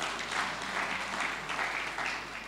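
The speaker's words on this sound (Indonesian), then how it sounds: "Tepuk tangan bagi Tuhan kita." A church congregation applauding during a Sunday worship service, a fairly quiet, steady spread of clapping heard from a distance in a large room.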